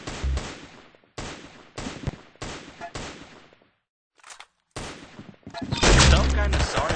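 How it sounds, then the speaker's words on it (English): Rapid gunfire in a shooting video game, several loud bursts of close shots in quick succession, then a brief gap and a denser, heavier barrage at the end. "That's some beautiful shooting right there."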